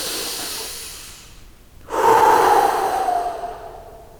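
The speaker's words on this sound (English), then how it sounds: "And breathe." A person in yoga practice, holding the arms up, takes a long, audible breath close to the mic, first a steady exhale, then a brief pause, then a deep rushing inhale or exhale that fades slowly.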